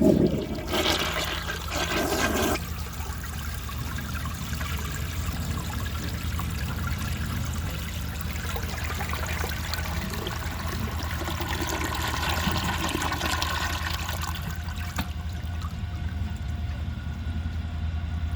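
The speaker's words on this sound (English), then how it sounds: "this is a flushometer toilet on a low tank" A 1966 Crane Whirlton low-tank flushometer toilet flushing, a loud close rush of water that churns steadily for about fifteen seconds before tapering to a softer trickle and refill.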